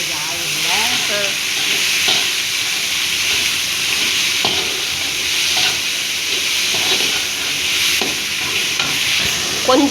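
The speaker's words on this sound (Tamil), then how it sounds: "chicken போடுறோங்க madam" Chicken pieces for Chettinad chicken sizzle and hiss steadily in hot oil while being stirred, with occasional scraping knocks of the spoon in the pan.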